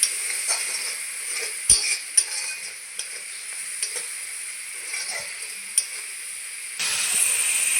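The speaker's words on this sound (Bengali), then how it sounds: "দেখুন মশলা আমি দিয়ে দিয়েছি, ভালো করে একটু কষিয়ে নেবো যেন কাঁচা গন্ধ চলে যায়।" Spice paste frying in oil and stirred for a papaya and potato curry, a steady sizzle with repeated scraping and tapping stir strokes, fairly close, no speech.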